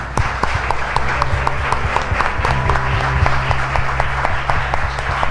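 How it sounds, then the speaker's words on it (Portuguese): A congregation applauds in church, a loud continuous clapping from many people over a low humming background, steady and full throughout. "Você pode dar uma salva de palmas ao Senhor?"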